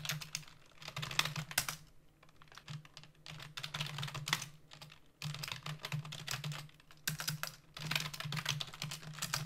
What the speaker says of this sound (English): This keyboard is incredibly loud